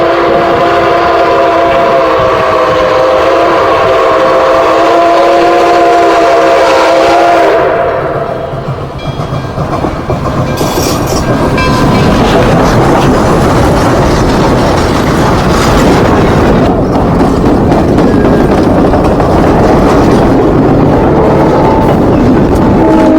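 Nickel Plate Road 765 steam locomotive passes in the Cuyahoga Valley, starting with a loud sustained whistle, then a roaring rush of the train rolling close by with rattling cars, loud throughout.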